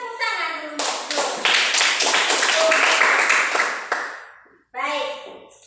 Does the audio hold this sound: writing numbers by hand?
no